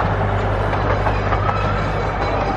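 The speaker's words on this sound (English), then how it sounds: "There's the Gulliver's Express train." A Gulliver's Express miniature train runs at a theme park, a steady close rumble with a constant low hum and a faint rolling clatter throughout.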